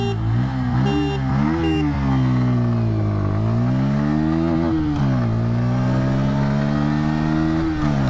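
A motorcycle, either a 2024 Bajaj Pulsar N150 or Honda SP160, accelerating hard from first gear during an acceleration test, its engine note rising in pitch, dropping at each gear shift and climbing again, loud and close.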